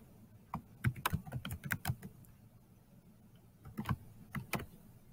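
Typing on a computer keyboard while entering an email and password, with quick bursts of close, quiet key clicks separated by a short pause.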